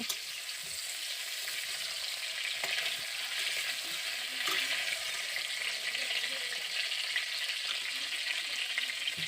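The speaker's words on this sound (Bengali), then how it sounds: "এবার এর মধ্যে দিয়ে দিচ্ছি পটলগুলো পটলগুলো দিয়ে ভালো করে ভেজে নেব" Pointed gourds (potol) frying in hot mustard oil, giving a continuous dense sizzle with occasional faint stirring scrapes, close and steady.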